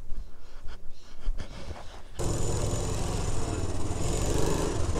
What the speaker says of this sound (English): So obviously, guys, I'm on a postie bike.